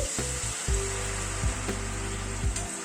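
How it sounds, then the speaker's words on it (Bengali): Hot water poured into oily spice paste that has released its oil, for a thin fish curry, giving a steady loud sizzle and hiss with a few pops throughout. "মশলাটা থেকে কিন্তু তেল পুরো ছেড়ে এসছে এবার গরম জল দিয়ে দিচ্ছি"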